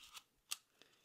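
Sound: scissors cutting cardboard tube

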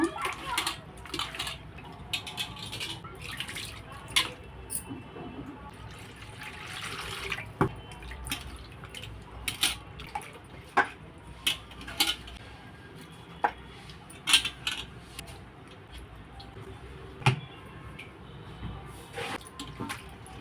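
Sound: washing mutton in water

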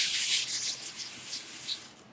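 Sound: sanding rough unsanded MDF board with sandpaper

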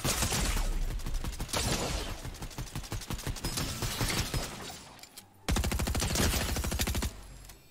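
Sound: sniper gunfire in Fortnite video game

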